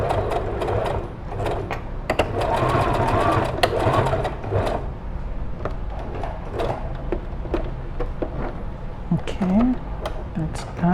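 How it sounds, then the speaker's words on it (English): Sewing machine stitching the second side of a fabric 3D face mask with a filter pocket, running in steady bursts of rapid mechanical whirring with short pauses and small clicks, close and fairly loud, with some speech in the background. "Now we're gonna proceed with stitching the other side."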